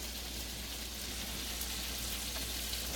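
Seasonings cook in a hot pan as the base for Southern country gravy, giving a steady, even frying sizzle that holds at a constant level throughout, close and alone with no talking.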